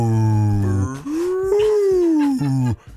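A human voice imitates a whale call: a low, drawn-out moaning tone that slides upward into a long wavering howl, then drops and cuts off, loud and close with no other sound.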